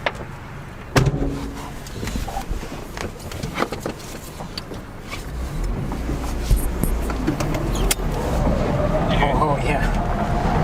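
A Honda Prelude drives with its rear tires rubbing on the bodywork, giving a low, steady road and engine rumble heard from inside the car that swells toward the end, with a few thumps and knocks and people talking over it.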